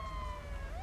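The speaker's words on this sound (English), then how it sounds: "Gonna turn off my siren because I keep forgetting to do that." A police car siren in the LSPDFR police game wails briefly, a near, clear rising and falling electronic tone heard alone.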